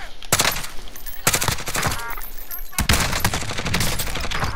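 MK2 carbine gunfire in Call of Duty: Modern Warfare, three loud, sharp shot bursts spaced a second or so apart with crackling tails, no talk over them.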